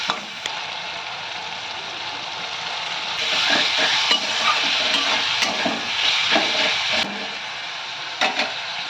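Chopped tomato and onion frying in a pan with salt and turmeric for Kolkata-style chicken biryani, a steady close sizzle with scraping stirs that grows louder midway, no talking.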